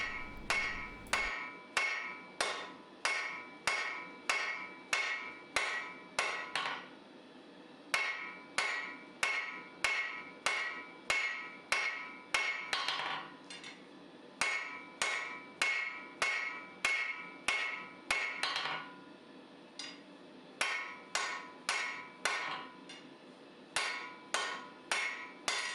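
Rhythmic hammer blows on a steel billet, drawing out an integral knife blade from round stock with a straight peen; steady bursts of ringing strikes in groups, loud and close, with brief pauses between runs.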